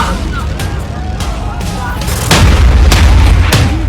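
Gunfire and bombing in Islamabad: a string of heavy booms and sharp reports over a dense, constant roar of commotion, loud and close.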